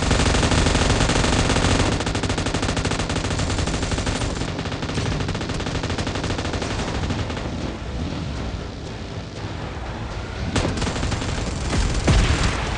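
Dense, relentless automatic gunfire from PUBG Mobile, loud and continuous with overlapping bursts and heavy booms, heard alone without talk.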